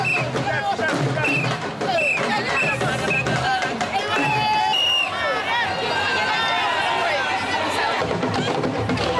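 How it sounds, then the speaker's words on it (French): A dense, loud crowd roars and chatters continuously, a frenzied throng greeting Senegal's first lady Marième Sall, with overlapping voices and cheers filling the whole stretch. "Marième Sall en communion avec une foule en délire."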